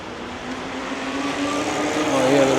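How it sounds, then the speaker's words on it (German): A delivery driver's motor vehicle rolls past on Nuremberg's old-town ring road, its engine rising steadily in loudness as it nears, with traffic noise around and no talk. "Oh, hier wieder so ein Liefertyp mit seinem Motor."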